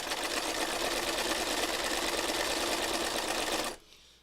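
A sewing machine stitches over threads and confetti fabric on a heart project, a close, steady whirring run lasting a few seconds before stopping abruptly.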